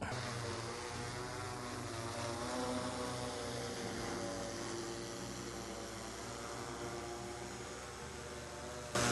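A steady, loud mechanical hum of multiple spinning propellers as an agricultural spraying drone lifts off, droning continuously with slight shifts in pitch, no voices heard.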